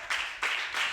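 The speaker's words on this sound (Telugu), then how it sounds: "గట్టిగా చప్పట్లు కూడా శ్రమపరచండి." Church congregation clapping in three short bursts of rhythmic applause, moderately loud and without voices.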